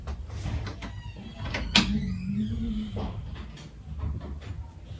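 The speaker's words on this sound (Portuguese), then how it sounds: "Deixa eu fechar a porta." A door is pushed shut and locked indoors: one sharp bang, then a brief sliding scrape from the latch, close by over a low room hum.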